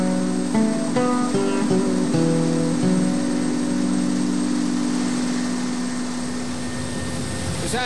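A helicopter flying over Uruzgan province, Afghanistan, gives a loud, steady engine and rotor drone with tonal whine, heard from inside the cabin and constant throughout with no talking.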